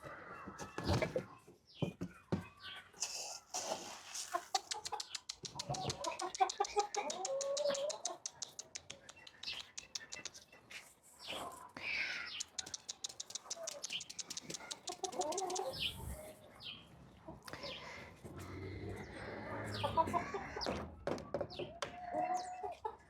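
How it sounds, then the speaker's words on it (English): Backyard chickens clucking and squawking in bursts at varying distances, mixed with thumps and rustling over about twenty seconds, fairly faint overall. "I've got to get the chickens back in"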